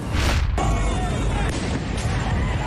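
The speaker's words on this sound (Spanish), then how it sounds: "Así se escuchaban las explosiones de las bombas aturdidoras de la policía antidisturbios" Loud, dense crowd noise at a protest, with a sharp stun grenade bang near the start and further thuds and bursts, a chaotic outdoor scene of riot police blasts and shouting.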